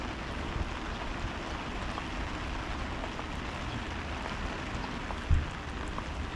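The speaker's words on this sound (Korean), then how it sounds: "지금 비가 아주 시원하게 내리고 있습니다." Steady rain falls during a rainy-season crucian carp fishing trip, a continuous even hiss with no other sounds standing out, apart from one brief soft knock near the end.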